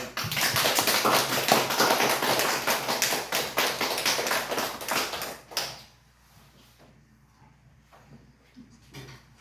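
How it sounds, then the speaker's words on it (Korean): A church congregation claps in a dense, sustained round of applause for about five seconds, then it stops abruptly and leaves quiet room tone with faint sounds. "나오실 때 우리 한번 박수로 환영하도록 하겠습니다."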